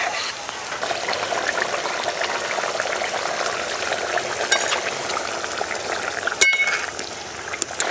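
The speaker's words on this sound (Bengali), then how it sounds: "ঝোল ফুটে উঠেছে" Puti fish curry broth with green chilli paste and water bubbling and sizzling steadily in a pan, a continuous close hiss with soft popping and a brief clatter near the end.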